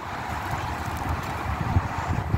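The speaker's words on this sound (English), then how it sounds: "The wind is about to take it." Wind gusts buffet a small umbrella outdoors, a steady, close rumbling roar with slight swells and no voices.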